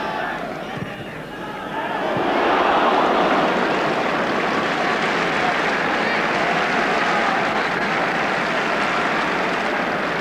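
Football stadium crowd at Switzerland v England, a broad roaring wash of applause and noise that swells after the first two seconds and holds steady, with a commentator talking over it.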